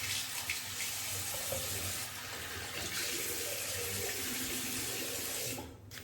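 A tap runs steadily into a sink while the face is rinsed after shaving, a continuous close splashing hiss that stays even and then cuts off near the end, with no talking.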